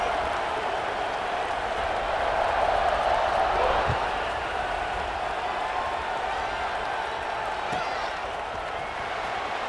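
Stadium crowd roaring in EA Sports College Football 26, a steady, loud wash of cheering and crowd noise running throughout beneath a commentator's talk.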